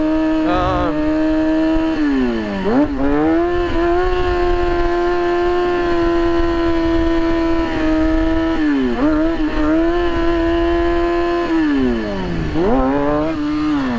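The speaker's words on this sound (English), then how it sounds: "Bike is running funky." A stunt motorcycle engine idling high and droning loudly, with repeated dips and surges in pitch as it runs roughly and unevenly, close and sustained.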